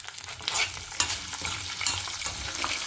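Green mango, dried red chillies and salt are sautéed in a pan, giving a close, steady sizzle broken by scraping stirs at regular intervals.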